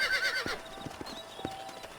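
Horses in the Red Dead Redemption video game, a whinny at the start followed by scattered hoof clip-clops on the ground, fairly quiet and close, with no talk.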